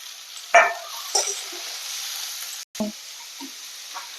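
Sliced onion and thin-cut garlic cloves drop into hot oil in a pan, giving a sharp burst of sizzling that settles into a steady frying hiss, with a few soft stirring scrapes.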